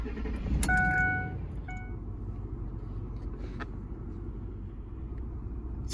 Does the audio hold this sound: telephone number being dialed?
no